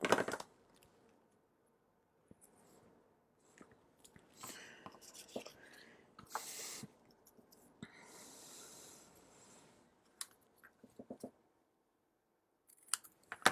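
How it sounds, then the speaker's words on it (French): Scissors snip through cardstock while trimming a handmade gift card, giving several crisp cuts with short pauses between them, close and fairly quiet, along with a few soft rustles and breathy sounds. "je vais recouper au ciseau"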